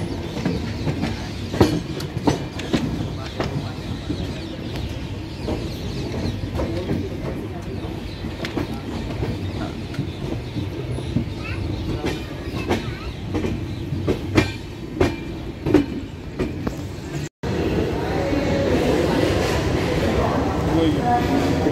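The Ziyarat Express passenger train running on its tracks toward Agra, with a steady rumbling roll, rhythmic clicks and clacks of the wheels, and occasional knocks heard from inside the carriage, loud and continuous, with some people talking.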